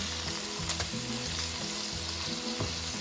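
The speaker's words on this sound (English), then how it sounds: "we have the hamburger patties or Salisbury steak cooking how we want" Hamburger patties, or Salisbury steak, fry in a pan with a brief, even, close-up sizzle and a fine crackle throughout.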